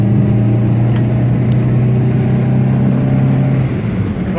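A front-wheel-drive automatic car with a dual cam bottom end and single cam top end holds a steady, loud engine drone at high RPM during a burnout, with no talk.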